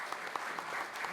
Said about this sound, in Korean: 여러분 다시 한번 먼 걸음 해주신 교수님께 큰 박수 부탁드리겠습니다.